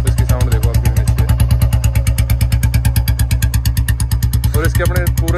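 A 2024 Royal Enfield Bullet Standard fitted with a short bottle silencer idles close by, its single-cylinder engine pounding out a loud, steady, evenly spaced thump throughout.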